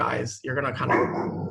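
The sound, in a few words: dog barking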